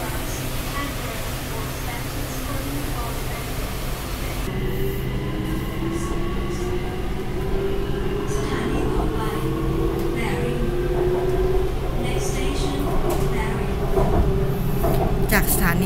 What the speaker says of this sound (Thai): บรรยากาศในรถไฟฟ้านะคะ